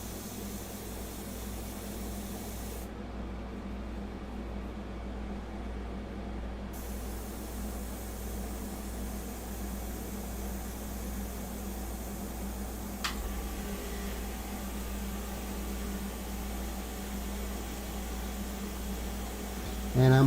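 Airbrush spraying India ink close to a surface for fine portrait detail, a steady soft hiss of air running throughout with a faint click near the end.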